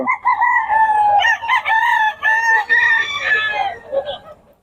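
Loud, close crowing from Sweater breed gamefowl roosters at a busy Bocaue market, several overlapping cock-a-doodle-doo calls filling the few seconds with a faint murmur of people behind.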